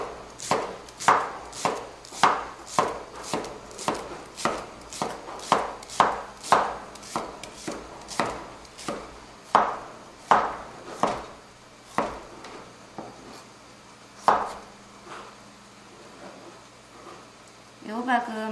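A knife slicing a large green onion diagonally on a cutting board, about twenty sharp evenly spaced chops, close and crisp, then slowing with a few scattered cuts, while someone talks quietly.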